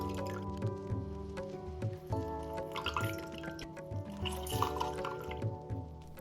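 Olive oil and lemon juice pour into a salad jar for dressing, with close, soft liquid drips, glugs and squishy splashes over several seconds and no talking.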